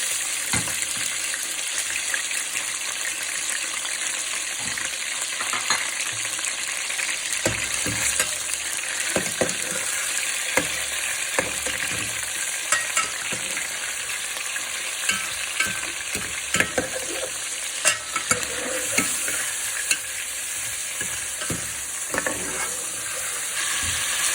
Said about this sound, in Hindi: बिस्मिल्लाह, चिकन फ्राई करूँगी।